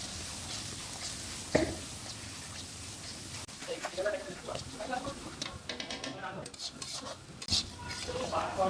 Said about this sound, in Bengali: ধনিয়া গুঁড়ো দেওয়ার পর পুরো মশলাটাকে ভালো করে মিশিয়ে নেবো